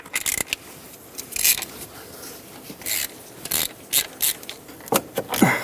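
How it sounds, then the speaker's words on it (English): Ratchet with a 13mm socket working valve cover bolts loose on a 1999-2007 Ford F-350 7.3L Powerstroke. Close, irregular clicking bursts come as the handle swings back and forth, with brief metallic scrapes between them. "I'm just going to take a 13mm socket and go back and forth"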